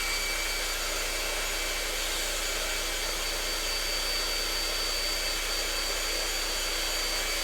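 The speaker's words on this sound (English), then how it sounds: "So hair dryer on." A hair dryer blows steadily on a turned wooden piece to dry its coloured surface, a constant loud whooshing roar with no change in pitch and no voices.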